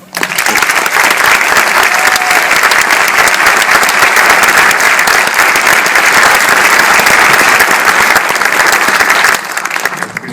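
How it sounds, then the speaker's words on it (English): An audience at a film screening of Fruitvale Station breaks into loud sustained clapping that holds steady for about nine seconds before tapering off, dense and close, with no talk over it. "So once again, a round of applause."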